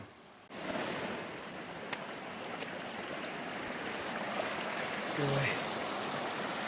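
Snowmelt stream rushing in the wilderness, a steady broadband wash of flowing water that stays loud and close throughout, with a brief spoken word near the start and faint wind.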